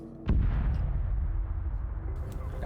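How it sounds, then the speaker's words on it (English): A video game explosion booms out loud and close in one sudden hit, then gives way to a long low rumble that fades slowly. "That was that explosion right there."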